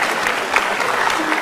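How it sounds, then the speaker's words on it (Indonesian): A stand-up comedy audience claps steadily for about a second and a half, a dense, even wash of applause that holds at one level with no pauses and no voice over it. "Oke, tepuk tangan."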